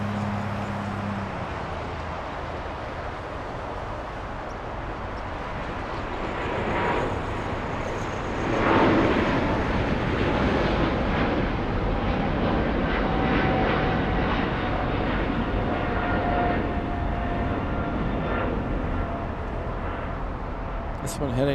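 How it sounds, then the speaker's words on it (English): A China Southern cargo airplane flying over Los Angeles, a broad jet roar that swells to its loudest around the middle and slowly fades, with people talking faintly underneath. "This one heading to Mexico City. Interesting route for the China Southern cargo."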